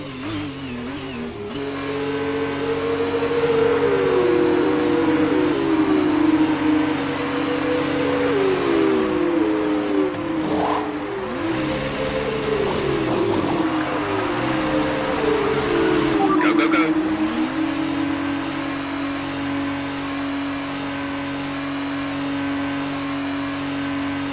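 F2 race cars in the F1 2019 video game at Bahrain, engines droning loudly and shifting pitch as they accelerate and change gears on a restart, continuous and close.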